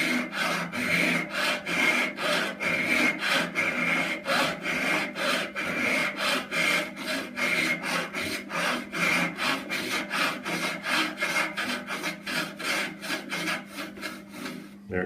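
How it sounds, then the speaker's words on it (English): A hand saw cuts fret slots in a flamenco guitar fingerboard in quick, regular back-and-forth strokes, close and steady for the whole stretch with no talking. "I'm going to saw until I don't hear wood being cut anymore"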